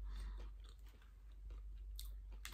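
Close crunching of fried onion rings from Burger King, several crisp bites and chews spaced irregularly in an otherwise quiet room.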